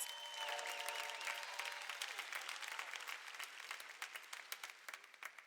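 Applause from a crowd at a high school graduation ceremony, dense at first and then thinning into scattered individual claps as it fades.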